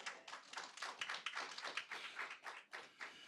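Audience applause at a school district candidate forum, a brief burst of sharp, irregular hand claps from a modest crowd, fairly quiet and heard alone.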